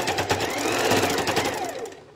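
A close, loud sewing machine runs fast and steadily, stitching fabric in a sustained rhythmic whirr that rises slightly in pitch and then fades near the end.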